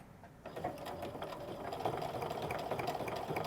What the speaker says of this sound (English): Now I'm gonna stitch an 1/8 of an inch away just to create an extra decorative element.